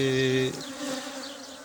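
A steady buzz of many honeybees at a hive close by, a dense droning hum that shifts slightly in pitch.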